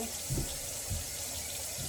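Cold tap water runs steadily into a sink or bowl while a whole raw chicken is washed, a close, constant broadband rush with a couple of brief low thumps of handling.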